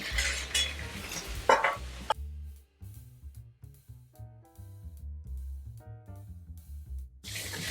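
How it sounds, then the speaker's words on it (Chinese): Dried tofu and squid are stir-fried in a wok, with sizzling bursts at the start and end around a stretch of rhythmic spatula scrapes and clinks against the pan, all close up. "稍微拌炒一下"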